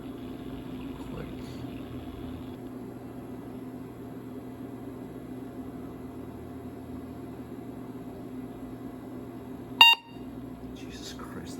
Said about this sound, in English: that beep is always so loud